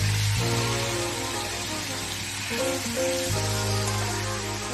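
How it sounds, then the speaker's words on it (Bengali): Fried potato, paneer and tomato tipped into hot cooked-down masala for chola paneer, a steady loud sizzle and crackle of frying that runs the whole time, with a faint tonal hum underneath. "এবার এই কষা যে মশলাটার মধ্যে আপনি আলু, পনির, টমেটো সবকিছু যে আমি ভেজে রেখেছি এটাকে আমি দিয়ে দিব"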